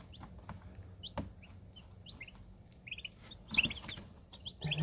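Young turkeys in a lidded enclosure, drawn to an egg, give short, high peeps and soft clucks in scattered bursts, with some nearby shuffling and clatter growing louder toward the end.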